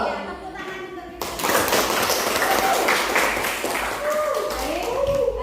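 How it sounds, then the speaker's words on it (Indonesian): A classroom group of teachers bursts into applause after agreeing on a program, a sudden dense wash of clapping that starts abruptly and holds steady for several seconds, with voices mixed in. "tepuk tangan untuk kita"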